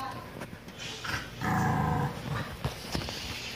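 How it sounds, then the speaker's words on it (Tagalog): A dog growls and whimpers in short bursts, fairly close, with a louder sustained growl in the middle and people talking faintly around it. "kita niyo po bang aming asong baliw?"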